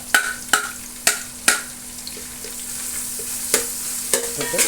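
Sliced onions go into a pan of frying chicken curry base and get stirred, several sharp spoon knocks and scrapes over a steady soft sizzle, close up with no talking.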